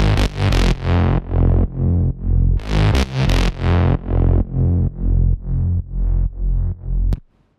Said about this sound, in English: This bass is functioning as a top bass to add some grittiness to the higher frequency areas of the bass